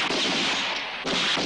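Gunfire in a 1970s western film scene, a loud dense blast of shots rolling into echoing reports, with a second sharp burst about a second in.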